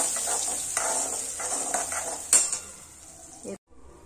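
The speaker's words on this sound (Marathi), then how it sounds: "2 वाट्या रवा, खोबऱ्याचं खीस आणि साखर त्याला स्लो गॅसवर आपण थोडंसं भाजून घेऊया" Semolina, grated coconut and sugar roasting in ghee over a low flame, with spoon scrapes and clinks against the pan, a faint sizzle underneath, and a short sharp knock near the end.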